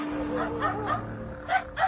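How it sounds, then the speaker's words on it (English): An agitated dog barks fiercely and yips with whimpering edges at a large crab-like creature, a short run of mid-distance yelps over a steady hum and background murmur. "A dog was clearly agitated and barking fiercely at a bizarre creature."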